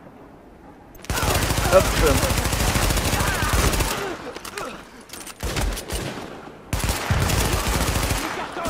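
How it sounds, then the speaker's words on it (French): Automatic gunfire rattles in Tom Clancy's The Division, with long sustained bursts broken by short pauses; a voice briefly speaks between volleys. "on peut même tirer comme ça sans viser, ça fait pas mal"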